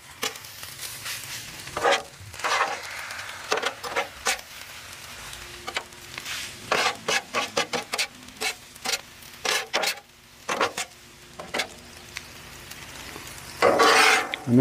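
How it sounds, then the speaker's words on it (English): Chicken fried rice is mixed on a Blackstone griddle, with repeated scraping spatula strokes in irregular bursts over a low sizzle, close and fairly loud. "now we've reached that time where everything's cooked a little bit, and we're just going to mix everything together."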